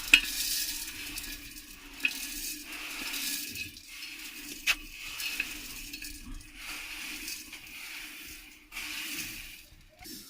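Vermicelli roasts in desi ghee with a faint, steady sizzle while a utensil stirs and scrapes the pan, producing regular light scraping sweeps and an occasional sharp tap against the metal.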